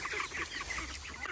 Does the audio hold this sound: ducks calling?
yes